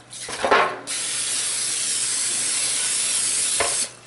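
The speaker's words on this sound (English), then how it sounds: "Spray the pan with vegetable spray on pan." An aerosol can of vegetable cooking spray coats a baking pan in one long steady hiss lasting several seconds, with short bursts at the start and end.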